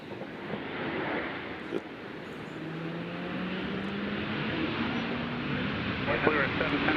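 A jet lands at Nashville International Airport, its engine roar a steady, fairly loud broadband rumble with a slowly rising drone, heard from a distance with no talk over it.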